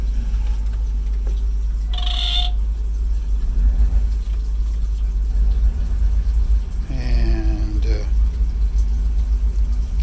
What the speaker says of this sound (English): now we have both engines running